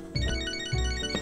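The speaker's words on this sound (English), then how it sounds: "My phone. I'll pick up." Phone ringing in the video game Catherine: Full Body, a soft electronic ringtone pattern repeating in short pulses amid quiet tonal game music, no voices.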